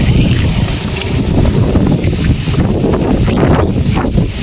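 Strong wind buffets the microphone in heavy, continuous gusts outside a hospital in bad weather, a loud low roar with no voices.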